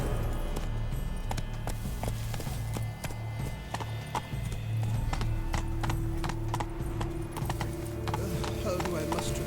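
Horse hooves clip-clop at a steady, brisk pace in The Witcher 3: Blood and Wine, a close, regular patter of footfalls that continues throughout.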